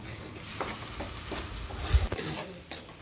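Masala paste for a half-kilo chicken curry cooking in oil, a soft, steady sizzle broken by a few spoon stirs and light scrapes against the pan, faint and close, with no talk.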